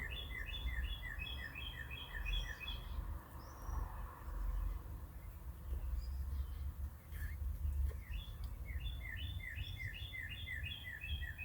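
Small songbird chirping in quick repeated bursts of bright tweets, two clear phrases separated by a pause, moderately near over steady low outdoor rumble by a shed.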